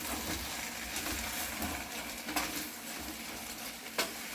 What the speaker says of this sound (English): So I'm going to keep frying it until most of this